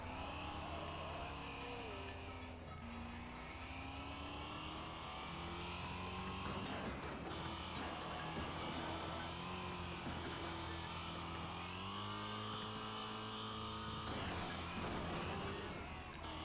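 The Rebel Red race car in the demolition racing game Wreckfest drives along with a low, steady engine drone that shifts pitch as it accelerates and changes gear, fairly quiet throughout with no talk.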